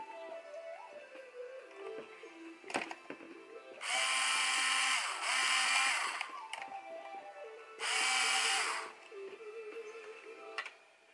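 A small power driver whirs in two bursts of about two seconds each, tightening bolts on a LotusRC T580G copter. Softer handling clicks and clatter fill the gaps between the runs, close by with no talking.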